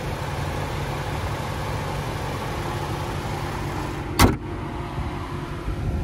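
A 2015 Chevrolet Impala LT's naturally aspirated 2.5 liter four-cylinder idles with a low, even hum close by, broken by one brief sharp click or thump midway.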